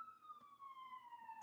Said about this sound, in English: These ambulances, man, in New York, they just drive by all day with the,